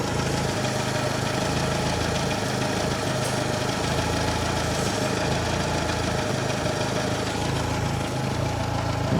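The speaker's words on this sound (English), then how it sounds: "I've got it sitting here idling at just under 800 RPM" A 998cc Mini engine idling steadily at just under 800 RPM, a close, continuous mechanical chug with an even pulsing rhythm and faint tappety vibration throughout, with no voices.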